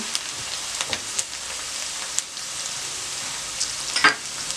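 Onion and ginger frying in a pan for chickpea pulao, giving a steady close sizzle with scattered crackles and a few sharper pops near the end.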